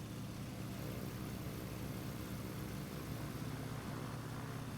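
Sukhoi SU-31 aerobatic plane idling in the MSFS 2020 flight simulator with a custom sound pack, a steady low rumbling drone that holds evenly throughout with no voices.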